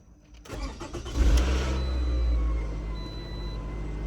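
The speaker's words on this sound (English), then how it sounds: "Now I'm gonna go inside the car and crank it up." A Toyota RAV4 engine cranks for a moment, catches, and settles into a steady rumbling idle, close by.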